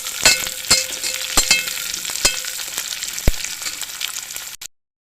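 Onion pieces sizzle and crackle steadily in a pan for meal maker biryani, punctuated by sharp clinks of stirring, before cutting off abruptly.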